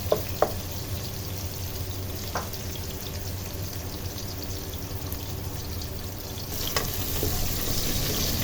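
Onions frying in a pan as the base for pork mechado, giving a steady, moderate sizzle throughout with a couple of faint clinks near the start and a slightly louder stretch toward the end.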